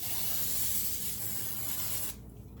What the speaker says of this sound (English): you gotta start by spraying your pan